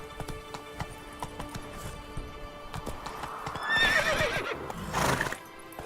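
Roach, a horse in The Witcher 3: Blood and Wine video game, gallops with steady clip-clop hoofbeats, then gives a loud, close whinny and a second neigh near the end over a low ambient game soundscape.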